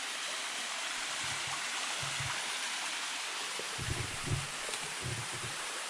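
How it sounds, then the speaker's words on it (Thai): A small forest waterfall gives a soft, continuous wash of falling water, faint and steady, with occasional low rustling thumps nearby. "น้ำตกนี้เป็นน้ำตกเล็กๆ แต่ก็สวยงามมากครับผม"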